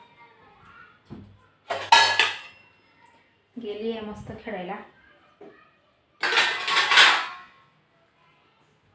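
Metal pots and dishes clank and scrape in a home kitchen in two short, bright bursts of clattering, with someone talking between them.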